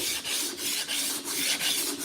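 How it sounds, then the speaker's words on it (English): Rhythmic rasping strokes of a sanding block scrubbing body filler on a 1986 square-body truck in a crosshatch pattern, about six back-and-forth passes in quick, even succession. "Now watch, I'm blocking in a crosshatch pattern."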